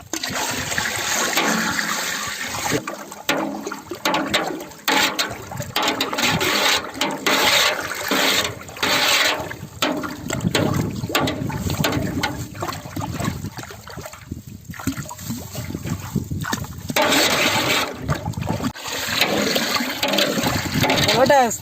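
Nannari sarsaparilla syrup is poured into a sarbath drink with almond gum, giving close splashing, trickling liquid sounds in uneven bursts, with a voice talking over it.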